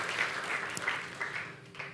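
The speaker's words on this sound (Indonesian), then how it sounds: "Sampai sini boleh kita kasih tepuk tangan buat Tuhan Yesus saudara." A church congregation gives a moderate, steady round of applause for Jesus during a sermon, the clapping blending into a continuous wash with a few sharper claps standing out.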